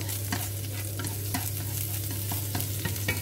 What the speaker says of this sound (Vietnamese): xả bằm sẵn rồi đó chúng ta cháy cho nó thơm